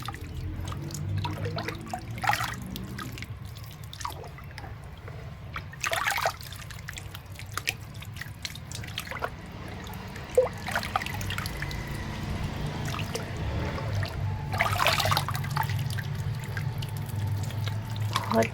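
Wet multani mitti mud being stirred and strained, giving soft continuous watery trickling and squelching with intermittent sharper splashy bursts, close and steady throughout, no talking.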